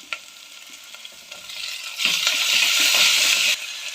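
Sizzling and frying of garlic and curry leaves in a pan, with stirring scrapes, the hiss swelling louder midway then easing slightly near the end.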